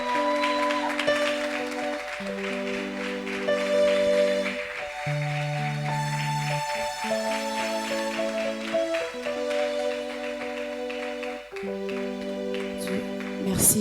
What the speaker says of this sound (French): Acclame puissamment le Seigneur pour la recevoir.